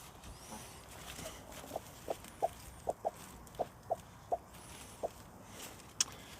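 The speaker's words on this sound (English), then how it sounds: "But here you guys can see the chickens here." Backyard chickens beside a hot compost pile cluck in a steady series of about a dozen short, soft notes, evenly spaced and fairly near, over a faint outdoor background hiss.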